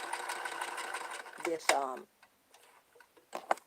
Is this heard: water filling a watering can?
no